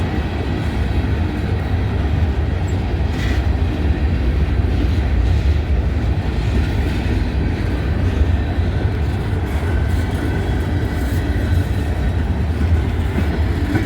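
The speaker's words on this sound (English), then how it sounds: "This train's pulling mighty slow." A freight train rolls slowly through Abbeville, a loud, continuous rumble of rail cars with faint clatter and occasional high squeals from the wheels, steady for the whole stretch without any voices.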